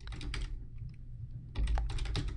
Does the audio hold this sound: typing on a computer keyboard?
yes